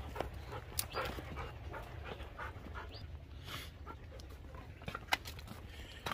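A dog panting outdoors in a garden, quick rhythmic breaths repeating steadily and fairly faint, with occasional small thumps and no talking.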